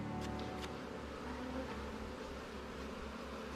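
Honeybees buzz steadily in a continuous low drone as they are brushed back into a hive box in Alaska, a dense swarm hum close by, with a few brief sharper sounds early on.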